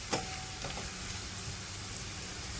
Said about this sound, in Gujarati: અને તમારે હલાવતા રહેવાનું.